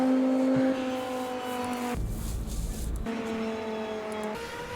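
A McLaren GT car engine in a racing video game drones with steady harmonic tones, shifting pitch through gear changes and a brief low rumble, loud and continuous with no talk.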